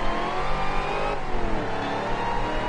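A supercharged car in the VRC Pro racing game revs hard and steadily, its engine note rising and falling as it accelerates through corners, loud and continuous with no talking.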